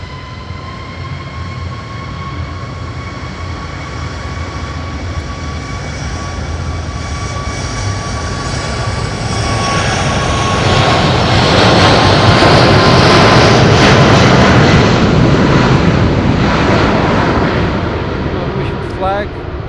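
Brand new jet aircraft taking off from runway 05 at Madeira airport, its engine roar building from a steady hum to a loud, broad swell before easing, with a faint radio voice underneath.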